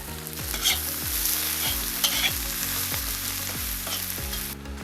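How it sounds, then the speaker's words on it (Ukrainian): Onion frying in oil in a cauldron, a steady loud sizzle with repeated scraping strokes as it is stirred, close by with no voices. "Цибуля смажилась одну хвилину, почала з'являтися золотиста скоринка."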